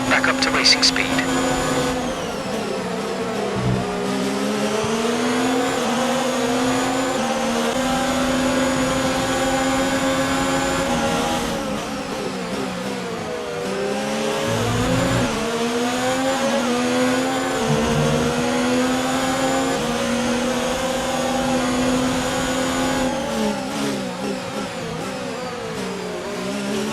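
An F1 car in a Formula 1 video game revs up through the gears at Australia, a loud whining engine note climbing and dropping across repeated shifts, sustained for the whole stretch with no talk.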